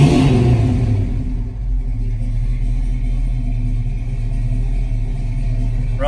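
A cold car engine idles steadily out of gear, a constant low rumble that holds even for about six seconds with no revving.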